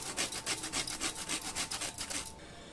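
Whole nutmeg grated by hand, roughly a dozen quick rhythmic rasping strokes, close and fairly quiet, stopping shortly before the end.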